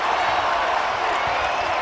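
A basketball arena crowd at a Kentucky vs Georgia State game roars after a dunk, a dense, sustained wash of cheering that stays loud and even throughout the short stretch.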